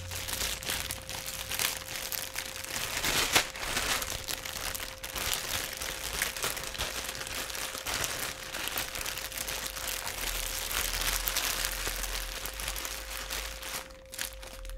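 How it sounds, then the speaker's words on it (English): Cellophane wrapping crinkles and crunches continuously up close, a dense rustling texture of handled plastic that swells and eases in bursts, with no talk over it. "Some cellophane right here."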